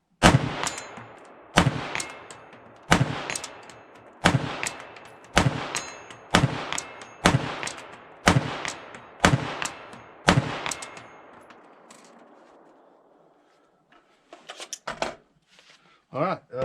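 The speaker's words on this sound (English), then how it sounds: "let's take some shots at 100 yards and see where this thing's sighted in with this cheap Russian steel case I'm" A Daniel Defense M4 V7 Pro rifle firing cheap Russian steel-case ammunition at 100 yards: ten loud, sharp shots at a steady pace, each with a ringing echo tail, followed by quieter clatter and handling noises.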